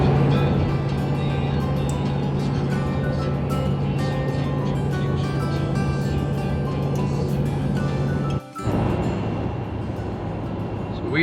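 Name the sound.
truck driving on the road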